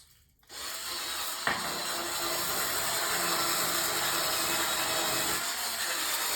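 An Easoger cordless electric spin scrubber cleans bathroom mold with a steady mechanical whirring hum. It switches on abruptly after a moment of quiet, then runs continuously with faint rubbing and a brief click.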